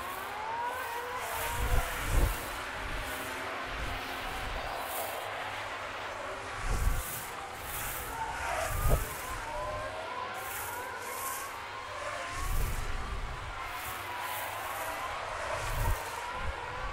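Formula 1 cars racing in the F1 Manager 2022 video game, a steady blend of engine whine with repeated brief louder surges as cars pass, continuing throughout at moderate level.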